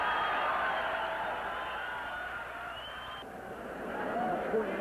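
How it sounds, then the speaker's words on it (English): A boxing arena crowd roars in a steady, dense wash of cheering and babble. The noise holds loud throughout, dips slightly midway, then swells again toward the end. "Listen to the crowd."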